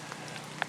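Spring downpour in Manitoba's Duck Mountains pattering on an umbrella fixed to a tree during a bear hunt: a faint, steady hiss of rain with a few brief drop taps.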